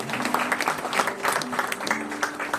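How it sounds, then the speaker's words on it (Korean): An audience applauds steadily at an award ceremony, a dense wash of many hands clapping without a break, with faint voices mixed in underneath. "큰 박수로 함께 다시 한번 축하드리기 바랍니다."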